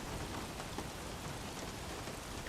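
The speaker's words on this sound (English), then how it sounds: "it is raining in Russia" Steady rain pours in an F1 racing video game at the Russian Grand Prix, a dense, even hiss of drops on surfaces that holds constant throughout and is heard alone.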